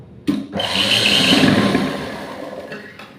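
A sewing machine stitches a front piece of fabric while sewing darts, its motor whirring steadily for about two seconds between brief quiet moments, close and fairly loud.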